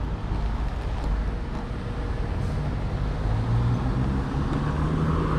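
Steady road traffic in Bermuda, many cars passing as a continuous, fairly loud rumbling wash with no clear gaps and no talk.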